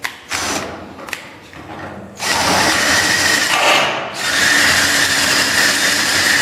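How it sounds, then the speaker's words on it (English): A power drill bores into the steel body of a 1937 Plymouth Convertible, starting with short stuttering bursts and then running in long, loud, steady whirring stretches with a brief dip between them, up close. "And just get this drilled."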